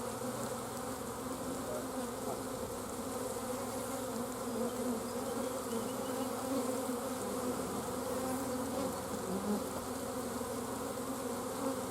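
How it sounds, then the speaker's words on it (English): A dense, steady buzzing of many bees around a nucleus hive being installed fills the air close by, continuous and layered, with no speech. "there's so many bees in this damn, there's one on my neck"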